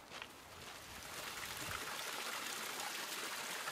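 Water runs at the Saint-Priestre mineral spring along the Chaîne des Puys, a steady soft trickling flow that grows slightly fuller and continues without a break.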